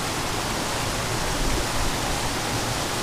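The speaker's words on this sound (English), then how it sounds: "Right in that waterfall." A waterfall by a trout-fishing river, filling the air with a dense, loud, unbroken roar of rushing water.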